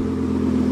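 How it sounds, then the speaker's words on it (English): An Audi car engine is revved, holding a steady, loud mid-pitched drone, running continuously without a clear rise or fall. "Give it a couple revs."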